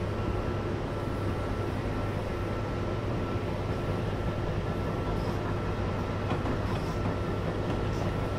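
An Amtrak AEM-7 electric locomotive pulling four cars between Philadelphia and Trenton in Train Simulator 2019 runs at speed, a loud, unbroken rumble and roar of wheels and motors.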